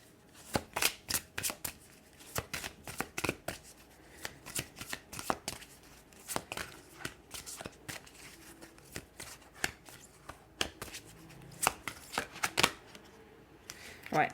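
Tarot cards shuffled in rapid bursts of crisp riffling and slapping clicks, close and fairly quiet, with brief pauses between runs and soft speech now and then.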